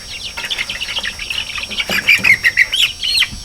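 Chickens, including Americanas, squawking and chirping in a busy, continuous jumble of calls close by, with the loudest squawks bunched near the end.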